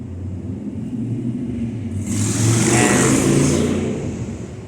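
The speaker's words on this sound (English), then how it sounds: "that was a motorcycle driving by" A motorcycle drives by on a busy street outside at night, its engine rumble swelling to a peak as it passes and then fading, over a constant low traffic drone.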